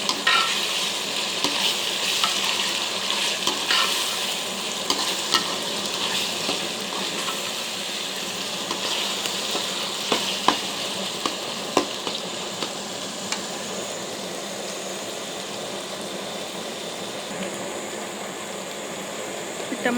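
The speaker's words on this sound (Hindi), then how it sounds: "टमाटर हल्के हल्के फ्राई हो गए हैं।" Minced keema frying with tomatoes and green chillies in a pan gives a dense, continuous loud sizzle, with occasional light stirring clicks against the pan throughout.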